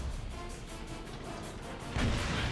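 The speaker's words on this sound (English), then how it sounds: "A Panther comes around the corner and starts shooting at him too." In World of Tanks, a Panther joins the fight against a Tiger: a muffled, distant rumble of battle gives way to a single heavy cannon boom near the end, low and resonant.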